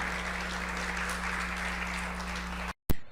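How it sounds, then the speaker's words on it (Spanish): Congregation applauding the Lord during a church service, sustained loud clapping over a low hum, which cuts off abruptly near the end. "Démosle un fuerte aplauso al Señor, porque Dios es bueno."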